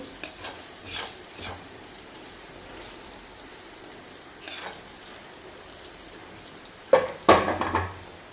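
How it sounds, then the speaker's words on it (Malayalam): Fried mustard seeds tipped into a pot of Kerala puzhukku and stirred through, with soft scraping strokes, a few light spoon taps against the pot and a louder clatter of utensil on metal near the end, close and moderately quiet. "കടുവറുത്ത് നമുക്ക് ഇതിലേക്ക് ചേർത്ത് കൊടുക്കാനേ"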